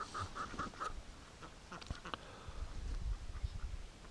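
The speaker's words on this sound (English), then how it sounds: "I went to get pails, and all the ducks are coming back." A crew of ducks quack as they waddle back into a yard on a rainy morning, a quick run of four or five faint quacks at first, then scattered soft rustles and low thumps.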